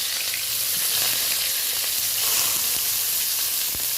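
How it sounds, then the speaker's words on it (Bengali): Grated onion drops into hot oil over tempered spices and sizzles loudly and continuously, a dense crackling hiss with no voices. "এবার আমি গ্রেট করা পেঁয়াজটা দিয়ে দেবো।"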